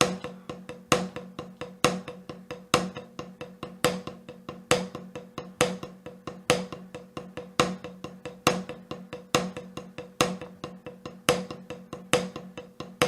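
A drum kit plays a steady, repeating pattern of sharp hits, evenly spaced throughout and kept tight and close with no talking.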